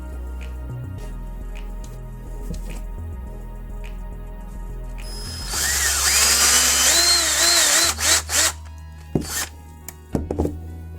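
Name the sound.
drilling with a power drill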